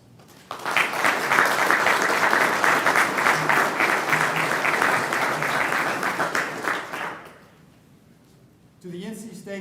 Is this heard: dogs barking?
no